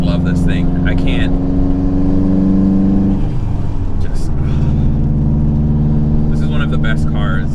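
Subaru WRX STI boxer engine with an SPT performance exhaust and Cobb tune, running loud and close with a steady low drone and a pitch shift midway, while someone talks over it.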